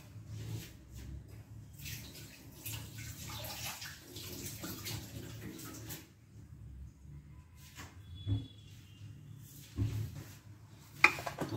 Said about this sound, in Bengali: হাতটা ধুয়ে আসি, দাঁড়াও।